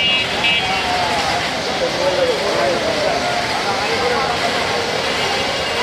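A train rumbles in at Kamalapur railway station, a steady, loud rolling roar with faint squeals, while people talk nearby.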